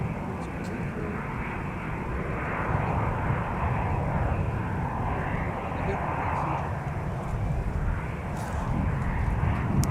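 A Sun Country airliner takes off from a runway at MSP airport, its engines giving a loud, steady roar that holds strong across the whole stretch, with talk faintly audible over it.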